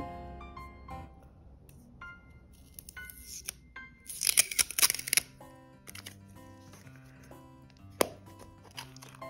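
Crinkly plastic rustling and tape tearing, with small clicks and a burst of crackling as a taped plastic Pokémon capsule toy is pried open, close and fairly quiet.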